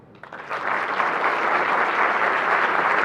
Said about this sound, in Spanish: Fuerte aplauso, gente, para Ronnie.